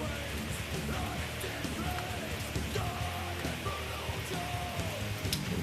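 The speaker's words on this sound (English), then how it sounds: "It's raining again." Steady rain patters outdoors around a 2007 GMC Envoy under repair, a soft continuous hiss with scattered drips, with faint voices in the background.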